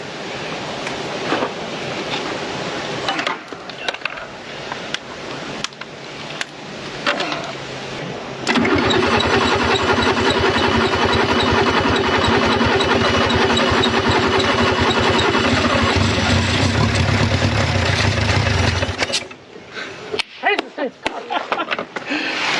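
An old Renault engine, abandoned for 54 years and in need of a carburetor, cranks and fires, then runs loud and rough for about ten seconds before cutting out, with people talking near it before and after.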